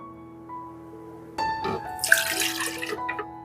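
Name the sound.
pouring pandan water into blender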